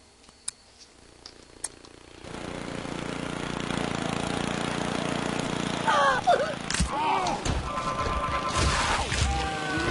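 Lawn mower motor of the Mr. Mower character in the Happy Wheels video game: a steady, buzzing engine drone starts about two seconds in and runs to the end, with clattering impacts and crashes piling on near the close.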